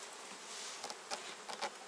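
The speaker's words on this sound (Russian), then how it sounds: "пчелки работают" Honey bees buzz at a hive in an apiary in a steady, dense drone, with a few louder passes as single bees fly close to the microphone.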